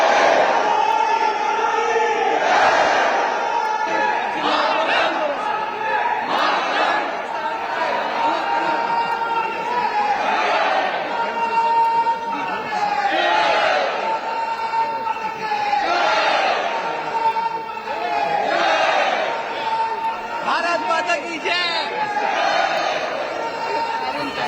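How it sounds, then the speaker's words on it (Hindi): A crowd of the Indian community in China chants Bharat Mata ki Jai in repeated rhythmic waves, loud and near, with shouted voices rising and falling in a steady cadence. "तो आप सुन रहे हैं भारत माता की जय का उद्घोष।"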